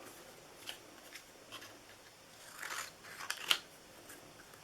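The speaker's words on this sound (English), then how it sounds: "And we're just going to cut it like a little banner." Scissors make a few crisp, close cutting snips through paper while a small banner is trimmed for a New Year's party favor box, with soft handling rustles between cuts.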